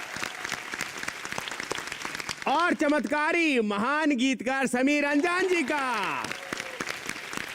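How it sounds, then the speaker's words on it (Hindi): Applause from a studio audience on a televised poetry show continues throughout while a host's voice speaks loudly over the middle stretch, the clapping rising back up around him. "जोरदार तालियों से स्वागत कीजिए हमारे गुरुओं का"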